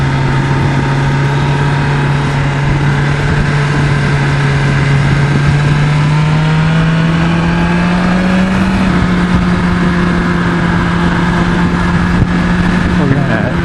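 A 2020 BMW S1000 XR motorcycle engine pulls steadily under acceleration, its loud sustained drone rising slowly in pitch over continuous wind rush, then settling at one point as if through a shift.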